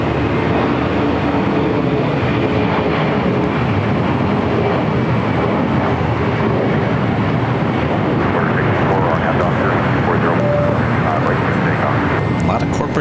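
A jet aircraft takes off from runway 25 right at LAX, its engine roar loud and steady throughout the clip with broadband rumble and no pauses.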